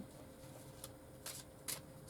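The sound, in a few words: shuffling playing cards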